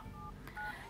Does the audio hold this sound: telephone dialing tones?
yes